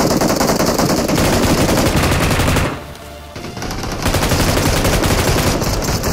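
Sustained rapid machine-gun fire in a video game, loud and close, a dense burst that pauses for about a second before resuming.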